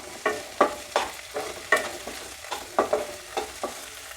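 Curry leaves and onions frying in coconut oil, stirred with a spoon in a pan: a soft sizzle broken by about a dozen sharp, evenly spaced scraping strokes against the pan.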